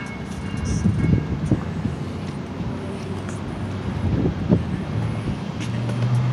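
A train passing in town on a hot day, a continuous low rumble with rattling wheel clatter and faint traffic noise that swells and eases over several seconds.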